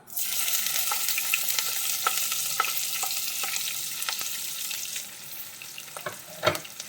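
Chopped onions hit hot oil for veg noodles with a sudden loud sizzle that holds steady, broken by scattered pops and utensil clicks, then eases slightly toward a final clatter.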